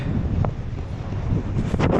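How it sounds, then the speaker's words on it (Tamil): Strong wind off Antarctica sweeps across a harbour in Australia, buffeting the microphone with a steady, low, rumbling roar and occasional gusty bursts, with no voices. "அடிக்குது பாருங்கள் காற்று. அண்டார்டிகாலேருந்து விசி விசி விசி விசின்னு அடிக்குது."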